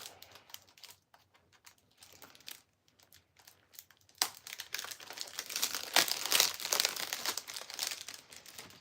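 Plastic wrapping on a Funko Pop collectible crinkles and crumples as it is handled, soft and sparse at first, then louder, denser rustling and tearing bursts in the second half, close by with no talk.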